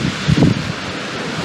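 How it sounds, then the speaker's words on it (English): Wind gusts across an open mountainside campsite on Mt Passaconaway, a rough low rumble buffeting the microphone that swells briefly and then settles into a steady rush. "That wind is picking up."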